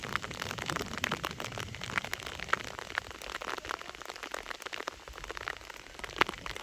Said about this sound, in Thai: ฝนก็ตกดี